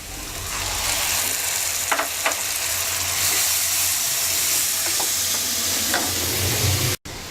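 Tomato puree hitting fried onions in a hot pan, a loud, dense, steady sizzle close by with a few faint spatters and stirring ticks, cutting off abruptly near the end; no talking.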